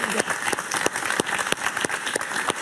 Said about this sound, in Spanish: la recibimos con un gran y cariñoso aplauso